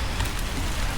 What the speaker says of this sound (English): It's freaking pouring raining. I mean, it's pouring.